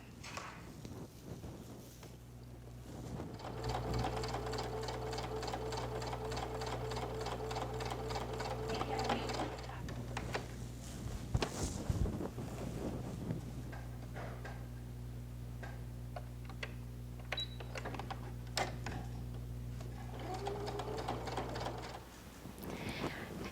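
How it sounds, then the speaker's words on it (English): A home sewing machine stitches quarter-inch seams along the corners of a holiday quilted placemat, its needle chattering in a steady rapid rhythm close up, with two brief pauses between runs and no talking. "Now I've taken my sewing machine and I have sewn all these 4 corners on."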